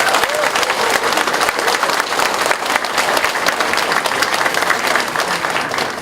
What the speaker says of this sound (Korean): 뜨거운 박수 한번 보내주십시오